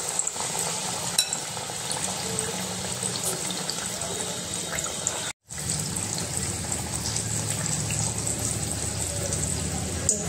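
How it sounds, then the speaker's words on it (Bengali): Raw mango chops coated in gram-flour batter fry in hot oil, a steady close sizzle and watery crackle running throughout, broken by a brief silent gap midway. "এটা আমি তেলে ভাজবো।"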